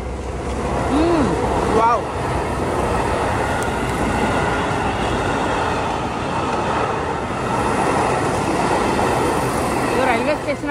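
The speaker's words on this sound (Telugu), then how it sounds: "ఓ మళ్ళీ ట్రైన్ స్టాప్ పడ్డది." A train at Keihan Fushimi Inari station in Japan gives a steady, loud rumble across the whole stretch, with brief squeals and tonal whines over it. People talk nearby throughout.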